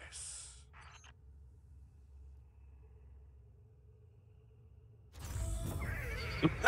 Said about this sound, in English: The noise the horse made?